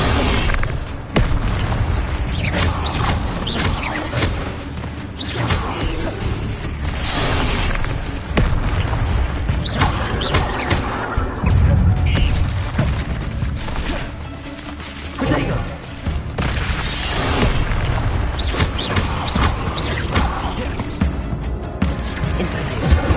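Fire spell Incendio cast again and again in Hogwarts Legacy, loud whooshing bursts and booming impacts repeating throughout amid busy combat effects.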